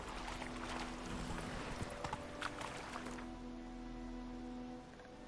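Rhythmic clip-clop of horse hooves trotting in The Witcher 3, moderately close, fading slightly toward the end over a faint ambient background.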